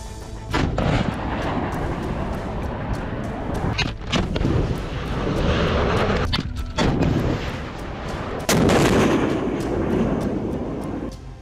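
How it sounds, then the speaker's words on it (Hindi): Indian Army weapons fire during a military exercise thousands of feet up in Sikkim, near 17,000 feet. Loud, dense booms and blasts follow one another over a continuous rumbling roar, with several sharp reports standing out. "हजारों फीट की ऊंचाई पर सेना के जवानों ने युद्धाभ्यास किया।"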